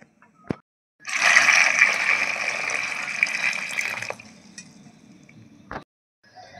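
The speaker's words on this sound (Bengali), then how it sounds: "এখন আমগুলো ভালো করে ধুয়ে নেব।" Raw green mangoes are washed for pickle in a rush of splashing, running water lasting about three seconds, framed by short knocks and clatter before and after.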